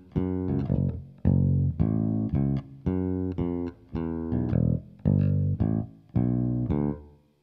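A bass guitar plays a short riff of punchy repeated notes with a change in the pattern, clear and close with no talking.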